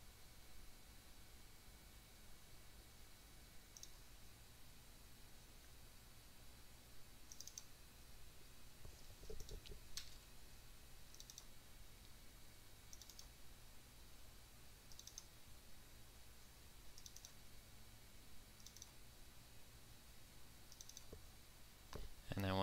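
Computer mouse clicks, sparse and faint, tap out every second or so against a steady low hiss while files are cut and pasted between folders during a Portal 2 map installation.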